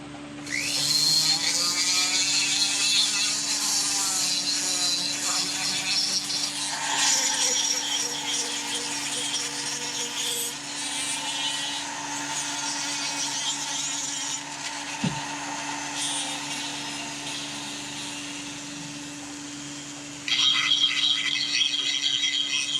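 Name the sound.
Sawzall with extra coarse bit rounding off wood edges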